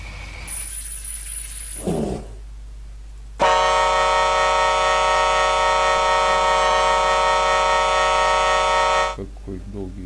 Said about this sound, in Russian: Какой долгий гудок у него.